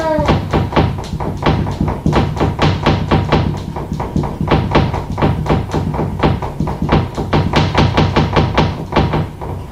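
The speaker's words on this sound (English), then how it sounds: "The strange knocking sound seemed to really disturb the cat." Strange knocking sounds inside a house at night: loud, rapid, irregular knocks and thumps repeat steadily in close succession, nearby and sustained with no other sounds.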